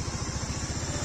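A motorcycle engine runs on a downhill mountain road near Darjeeling, a low, even throbbing pulse heard up close and steady throughout.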